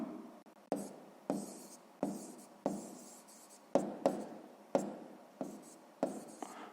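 A pen scratches across paper while working a sixth-grade maths exercise, making a steady series of separate strokes, each a sharp scratch fading out, close and quiet with no talk.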